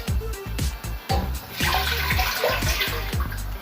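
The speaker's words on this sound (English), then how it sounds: "So I'm going to set it aside to put the water to parboil the rice." Water poured from a tap into a cooking pot for parboiling rice, a gurgling, splashing stream with repeated bursts and brief pauses, loud and close.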